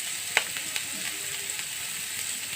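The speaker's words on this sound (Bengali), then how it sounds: "এখন পেঁয়াজটাকে ভালো করে ভেজে নেব।" Chopped onion frying in a pan for a rajma curry, a steady moderate sizzle with a few stirring clicks, no voices.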